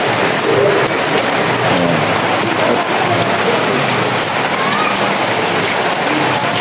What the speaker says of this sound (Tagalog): Lakas ulan dito.